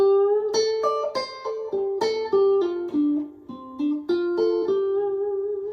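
A slow run of clean, sustained electric guitar notes from the final solo of a song, each plucked one after another with ringing tones, stepping down in pitch and settling on a held note.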